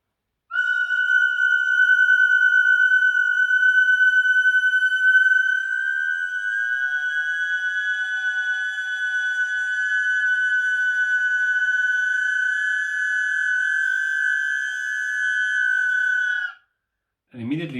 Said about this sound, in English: You hear the three tones plus the buzzing, which is like a much lower note.